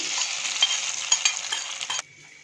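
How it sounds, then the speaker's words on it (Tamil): A tempering of cashews, raisins and curry leaves being stirred into cooked rice, producing a steady close scraping and light sizzling texture for about two seconds before stopping abruptly. "இப்போ இந்த தாளிப்பை நம்ம இந்த சாதத்தில் ஆட் பண்ணிக்கலாம்."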